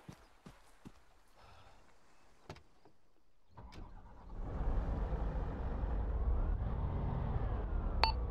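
Military vehicle engine in Arma 3 starting up after a few scattered clicks and thuds, then settling into a loud, steady low rumbling drone that continues to the end.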